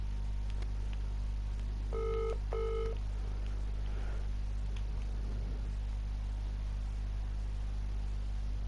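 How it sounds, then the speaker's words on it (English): A telephone being dialed for a call: two short two-tone keypad beeps close together, clear over a steady background hum, with no talking. "Just gonna make a quick phone call."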